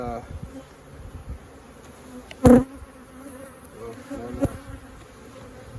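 Honeybees buzzing around beehive frames during an inspection of a hive with virgin queens, a steady close hum with one loud bee passing right by the microphone.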